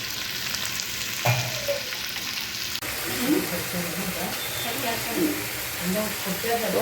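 Fish pieces fry in oil in a pan, giving a steady close sizzle that swells into bubbling bursts after a brief clatter, with no talk over it.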